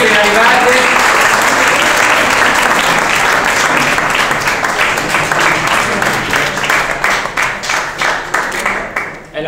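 An audience at an Italian literary dinner event breaks into long, loud, dense applause that continues steadily, then thins out and tapers toward the end.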